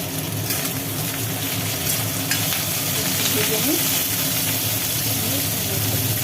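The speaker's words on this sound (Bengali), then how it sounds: "আলু এই আনাজগুলো সব পড়ে গেল তেলের ওপরে" Potatoes and mixed vegetables sizzle steadily in hot oil, a continuous close frying hiss with occasional stirring scrapes and faint background noise throughout.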